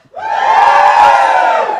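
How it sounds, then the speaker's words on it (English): A small comedy club crowd bursts into loud cheering and whooping, rising quickly and holding as a sustained collective yell for nearly two seconds. "Give us a cheer if it's your first time."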